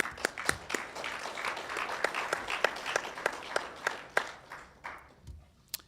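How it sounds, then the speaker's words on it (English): Conference audience giving a round of applause: scattered, distinct claps from a modest crowd, uneven and fairly close, thinning out and fading near the end. "So I would give each of you a round of applause."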